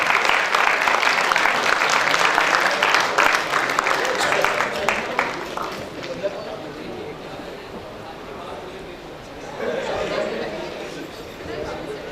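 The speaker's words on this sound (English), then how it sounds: "Round of applause for a brilliant ex-student." Applause at a school annual dinner honouring an ex-student, many hands clapping loudly for about six seconds before fading into a murmur of crowd chatter and talk.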